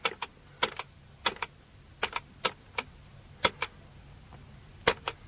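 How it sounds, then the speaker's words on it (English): Someone punches a number into a computer keyboard: about a dozen sharp, separate key clicks in an irregular rhythm, close and fairly quiet, in a quiet room with no talking. "Right, I'll just punch out the number, like so."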